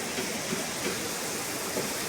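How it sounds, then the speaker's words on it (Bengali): Rainwater pours down like a small waterfall beside a road in a hilly Kerala village, making a steady, even rushing hiss throughout with no voices. "এই যে ঝর্ণা, ঝর্ণা না অবশ্য আপনার বৃষ্টির জল পড়ছে।"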